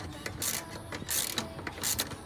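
Ratchet wrench with a 13mm socket loosening sway bar bolts on a BMW E36, heard as repeated quick clicking strokes in a steady rhythm, fairly faint and up close.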